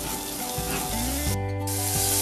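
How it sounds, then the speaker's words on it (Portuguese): A spoonful of butter sizzles in a pan, a steady close crackle with a faint hum underneath. "Uma panela, vamos colocar aqui uma colher de sopa de manteiga."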